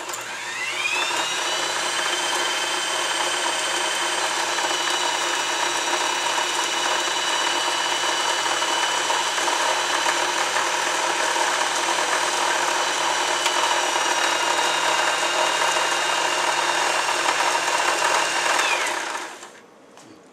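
A Swiss Elna EL2000 sewing machine winds thread onto a bobbin with a steady, close motor whir that holds for about twenty seconds, then spins down and stops.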